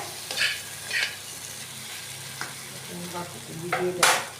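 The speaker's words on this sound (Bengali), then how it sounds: "এখানে আমাদের আলুগুলি ভাজা হয়ে গেছে ভালোভাবে" Potatoes frying in oil in a home-kitchen pan for a Bengali ridge gourd and katla fish dish, with a few spatula stirs and scrapes over a low, steady sizzle.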